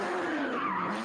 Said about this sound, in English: here is again the sound of the hooning